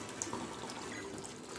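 Half a cup of water pours and splashes steadily into a pan of egg masala, a close, continuous liquid rush with a few small drips.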